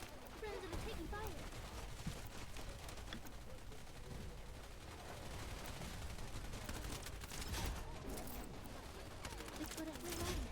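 Quiet, distant gunfire rattles in the online shooter Wild Assault: scattered cracks and short bursts keep going throughout, while a player talks over them.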